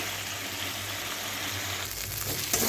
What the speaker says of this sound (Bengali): মশলাটা ততক্ষণ পর্যন্ত ভাজবো যতক্ষণ তেল না ছেড়ে দেয় মশলাটা গা থেকে